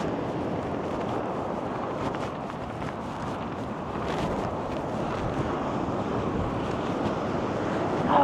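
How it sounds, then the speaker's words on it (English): Steady roar of surf breaking nearby on a beach near Perth, Western Australia, a continuous wash of water noise with some wind buffeting the microphone, no voices. "look at these waves"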